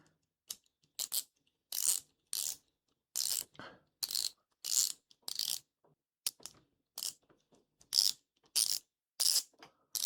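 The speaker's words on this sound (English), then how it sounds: "And this ratchet is very nice." Ratchet on a Skip Tool Check Plus hand tool, clicking in short, crisp bursts of rapid ticks separated by brief pauses, close up and alone.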